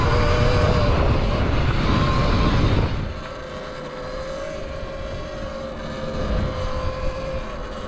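An ERide Pro SS electric bike at speed gives a loud rush of wind and motor whine for about three seconds, then drops to a quieter, steady hum with a faint high tone running through it.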